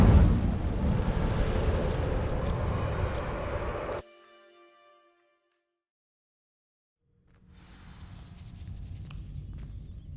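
Incendio fire spell cast in Hogwarts Legacy on PS5: a loud roaring whoosh of flame for several seconds that cuts off abruptly, a brief ringing tail, silence, then a low rumbling ambience returning.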